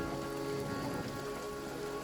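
Steady rain from the video game All Quiet in the Trenches, a dense, even patter of drops falling on surfaces that continues without a break and with no voices over it.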